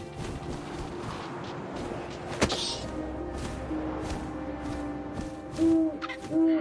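An owl hoots twice, close and clear, near the end of a stretch of soft wind and rustling ambience in the video game What Remains of Edith Finch.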